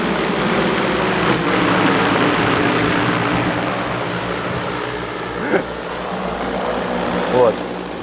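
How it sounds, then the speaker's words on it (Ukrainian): An agricultural drone flies in, its buzzing rotors making a broad, steady drone that runs through the whole stretch, with a few short swells and brief noises on top. "якраз ось і наш дрон прилетів"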